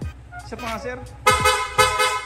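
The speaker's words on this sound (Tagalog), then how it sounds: "hindi lang po basta loud horn, no, nag-install din tayo ng rapid horn" Rapid horn fitted to a Sniper 155 motorcycle gives two loud, bright bursts of rapid honking, close by, after someone speaks briefly.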